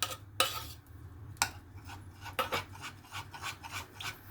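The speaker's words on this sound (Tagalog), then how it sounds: "haluin lang muna natin siya until dissolved" A utensil stirs coconut and condensed milk topping in a bowl, giving soft scraping and clinking strokes in an irregular rhythm, faint and close, with no talking.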